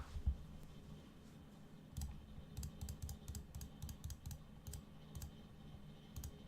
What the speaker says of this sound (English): Bask in the glorious clicking of my mouse.